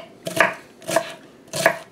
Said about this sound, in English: as long as you end up with some finely chopped onions